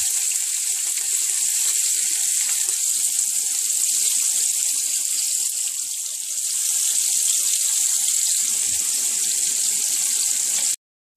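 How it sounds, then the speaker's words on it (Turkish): Sucuk meatballs frying in hot oil in a pan over moderate heat, giving a steady, bright sizzle that runs unbroken and fairly loud, with no voices. "Sucuk köftelerimi yağın üzerine koyarak harlı ateşte olmayacak şekilde kızartıyorum"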